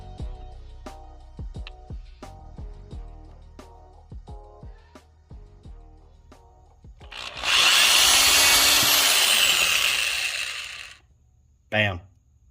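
A power drill with a sharp bit bores a vent hole into a Traxxas XMaxx RC tire, a loud sustained whirring grind lasting a few seconds after some clicks and handling noises, followed by a brief second burst.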